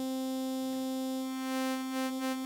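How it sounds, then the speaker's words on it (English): A synthesizer holds a single sustained note on its default patch, a bright, steady harmonic tone that is loud and close and stands alone with no other sound. "So for example, here is a synth."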